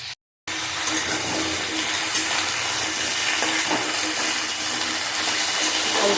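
Potatoes fry in a pan with a steady, loud sizzle that hisses on without a break after a brief silence at the start.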